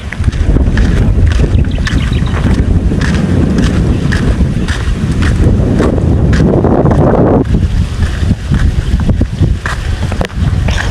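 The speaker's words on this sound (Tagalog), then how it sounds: "Kahit po mainit po ay ano, mahangin." Strong wind buffets the microphone in a continuous low roar, with gusts rising and falling and faint rustling underneath; no one speaks.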